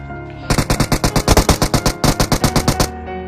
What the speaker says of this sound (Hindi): आगे से फायरिंग चल रहा था